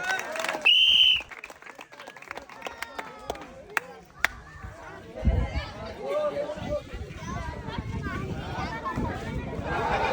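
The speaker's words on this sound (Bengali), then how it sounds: "সবাই একটা তালি হবে" A village crowd at an unusual outdoor prize game claps for a player, a short burst of applause rising out of lively chatter and voices that continue around it.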